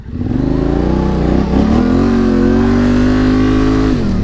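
A dual sport motorcycle engine, a Super Sherpa 250 or a 2021 Tenere 700, revs loud and close on a Northern Wisconsin trail, its pitch climbing steadily and holding high before easing off at the end.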